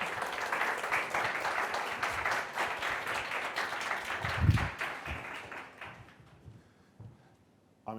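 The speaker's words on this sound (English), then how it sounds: "A round of applause, please." An audience applauds at a talk on making podcasts, a dense burst of clapping that lasts several seconds and then thins out to a few scattered claps before fading.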